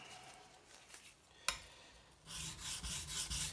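A steel blade rasps across a coarse Nanohone 200 sharpening stone after a sharp tap, the gritty strokes growing louder and more rhythmic toward the end, with no voices.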